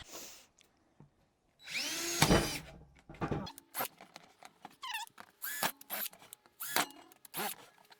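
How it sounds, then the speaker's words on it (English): A power drill with a 3/8 inch bit whirs up close in bursts: one long run, then a string of short, sharp spurts with brief pauses between. "if you have a drill, I have a 3/8 inch drill bit"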